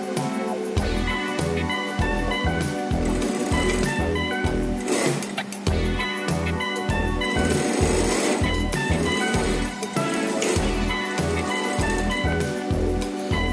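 Sewing machine stitching a seam on a tie along a half-inch margin, a fast loud rhythmic mechanical chatter of repeated needle strokes running throughout, close and alone with no talking.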